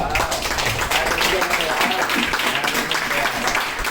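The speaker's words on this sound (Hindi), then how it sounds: "ये तीनों उपलब्धि के लिए जोरदार तालियां हो जाए।" Loud, sustained clapping from an assembled audience at a gathering, dense and continuous throughout, with voices blending into the crowd noise.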